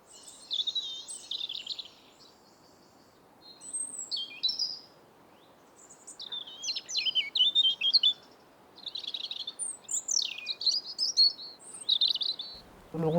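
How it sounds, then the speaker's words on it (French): A European robin sings in short, high, varied warbling phrases separated by pauses, fairly close over a quiet background hum. "Le rouge-gorge chante"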